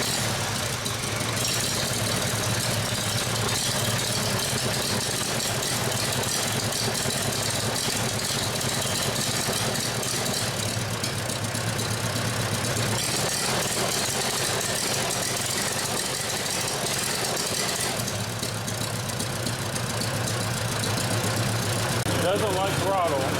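A Farmall tractor engine runs steadily at idle after a tune-up, a loud continuous mid-pitched rumble with some rattle and knock, filling the whole span without break.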